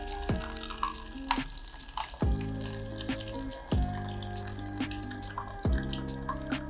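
A JMEY M2 portable instant hot water dispenser pours boiling water, its pump humming in repeated pulses with clicks and a light trickle of water, close by and fairly quiet.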